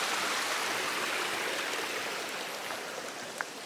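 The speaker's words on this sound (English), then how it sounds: "we're getting a nice little trickle through the culvert here" Water trickling through a culvert beside a lakeside trail, a steady close rushing wash with faint splashes, fading slightly toward the end.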